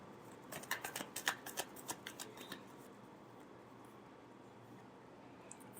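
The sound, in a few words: shuffling tarot cards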